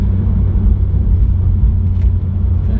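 Peugeot RCZ turbo engine growling while driving, a steady low rumble close up that holds evenly throughout without clear revving peaks.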